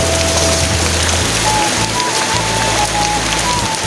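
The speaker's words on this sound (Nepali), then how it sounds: "पानी असिना पऱ्यो" Hail and rain pound steadily on a surface, a dense, loud, continuous patter filling the scene with no pauses and no voices.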